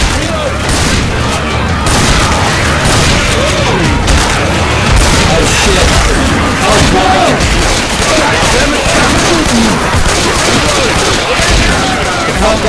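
Dense, continuous shotgun and gunfire from Left 4 Dead 2, loud and close with rapid overlapping blasts throughout, while players shout over the chaos.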